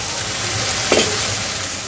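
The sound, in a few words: masala stir-frying in a pan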